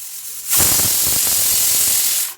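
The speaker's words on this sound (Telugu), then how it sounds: "విజిల్ అయితే వస్తుందండి" A pressure cooker cooking rice on a gas stove lets off its whistle as a loud, steady hiss of escaping steam lasting about two seconds, with no talking.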